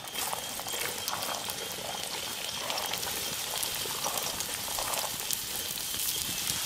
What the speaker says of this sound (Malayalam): നമുക്ക് ഉള്ളി ഇട്ട് കൊടുക്കാം